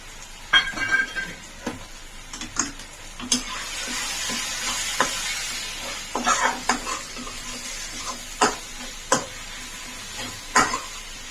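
Garlic and spices for a brinjal tomato curry fry in a pan, a steady close sizzle punctuated by sharp, irregular scrapes and taps of a spoon stirring.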